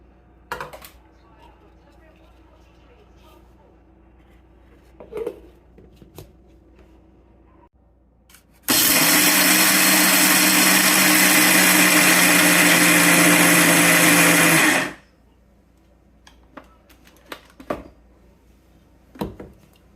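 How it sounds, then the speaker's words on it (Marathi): An electric kitchen mixer grinds cashews and almonds in one loud, steady burst of about six seconds. Quieter clinks, handling noises and occasional speech come before and after. "आणि काजू आणि बदाम मिक्सरमधून बारीक करून घेणार आहोत"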